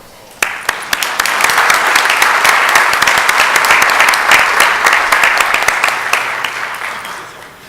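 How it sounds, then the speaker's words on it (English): Audience applause at a city council meeting: clapping starts abruptly, builds into a dense, loud wash with sharp individual claps, then tapers off near the end. "Let's give them a round of applause."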